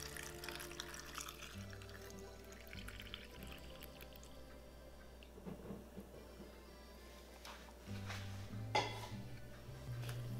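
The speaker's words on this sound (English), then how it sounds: "Now we're gonna pour in the cooked room temperature water." Cooked room-temperature water pours steadily into a glass jar of ginger and rice wine close by, a soft continuous trickle with faint clinks of glass, fairly quiet.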